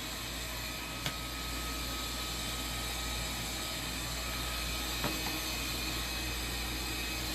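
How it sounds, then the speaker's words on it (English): A steady, broadband whirring drone runs throughout, like a vacuum cleaner motor in another room, with a couple of faint clicks. "Well, you can hear the vacuum in the background."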